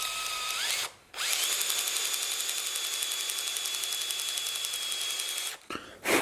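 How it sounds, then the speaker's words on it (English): A power drill bores a skewed hole into a wooden shelf for a Domino joint, spinning up to a steady high whine that runs for several seconds, stopping briefly, then restarting at the end. "I want to drill it nearer to the face"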